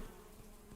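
Bees buzz steadily around an apiary in a cozy farming video game, a soft, continuous insect drone heard faintly and alone for under a second.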